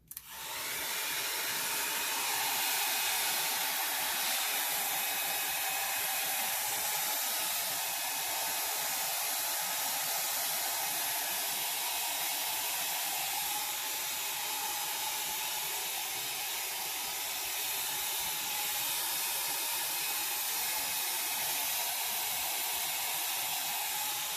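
A blow dryer roars loud and steady as it dries alcohol ink, a continuous airy whoosh holding unbroken from start to finish with no talking.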